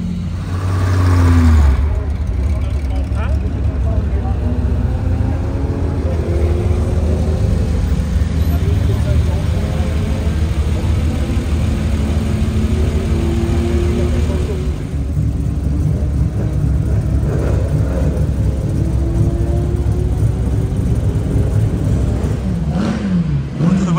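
A Bugatti Type 35 racing car engine revs and drones steadily throughout at the Dijon-Prenois circuit, with rising and falling pitch as it accelerates, while a voice talks over it.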